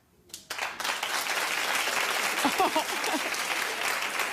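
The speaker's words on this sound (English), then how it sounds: "Clap if you feel sorry for her" Television talk show studio audience breaking into sustained, loud applause that swells quickly and holds steady, with a few voices audible through it.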